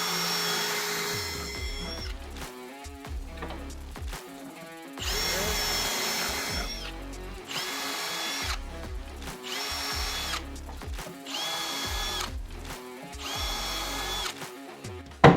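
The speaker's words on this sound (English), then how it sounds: "Now we got to drill holes for the back." A power drill whines in repeated bursts, spinning up and biting into the wooden back of a dovetail drawer with short pauses between holes, close and loud.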